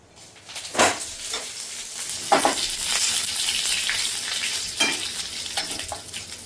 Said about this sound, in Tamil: இப்போ வந்து கடுகு பொறிஞ்சிருச்சு